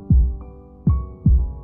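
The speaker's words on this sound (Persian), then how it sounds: "در طول مسیر تنها صدایی که میشنید صدای ضربان قلب خودش بود." A heartbeat sound effect plays up close: three deep, booming thumps, each followed by a low throbbing decay, set against a faint steady hum.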